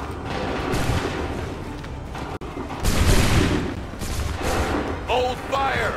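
Musket volley fired on command in Assassin's Creed III, heavy booming gunfire bursts amid battle noise, with shouted voices over the din.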